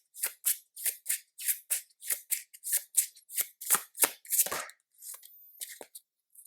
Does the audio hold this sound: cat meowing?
no